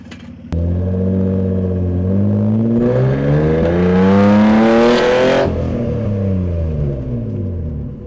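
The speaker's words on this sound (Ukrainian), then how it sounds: "Адже і звучить баварська шістка тут по-своєму." A Moskvich hot rod fitted with a BMW six-cylinder engine and a reworked exhaust revs loudly and close, its pitch climbing steadily through a long rise before dropping back to a steady, throaty idle.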